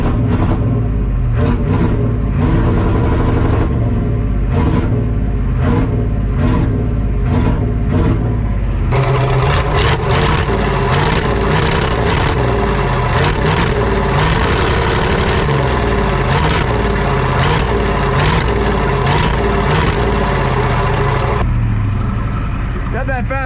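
A Ford F-350 with a 7.3 IDI diesel engine idles steadily and loud for the whole stretch, a constant rough rumble with people talking over it.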